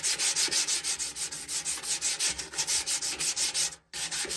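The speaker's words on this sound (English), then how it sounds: "I use a 100 grit sanding disc." A 100-grit sanding disc grinds rust off the metal of an old tool chest in a loud, steady abrasive rasp, pulsing rhythmically as it sweeps back and forth, with a brief cutout near the end.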